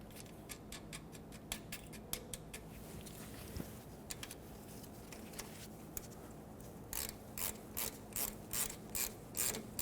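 A ratchet tightens the new starter mounting nut on a 2000-2005 Ford Excursion, giving quick runs of sharp clicking in bursts, a pause in the middle, then a louder final run, close by with no talking.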